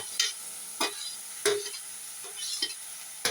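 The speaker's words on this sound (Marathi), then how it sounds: "ही अशी भाजी घालून अशी मेतार करता आणि तातून एक कप उदक घालता" A spoon scrapes and stirs a bhaji of banana plantain in a pan in short, separate strokes about every half second to a second, over a faint low sizzle, close and alone.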